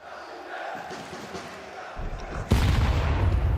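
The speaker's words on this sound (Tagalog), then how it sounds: "And the crowd goes wild." A live esports crowd at a CS2 playoff match at EWC erupts suddenly into loud, sustained cheering and roaring after a stretch of in-game gunfire and talk.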